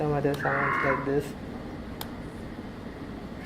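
A synthesized, vibrating voice-like tone resembling a frog croak or night owl call, made by adjusting autotune voice controls. It lasts about a second, is fairly loud, and is followed by someone speaking.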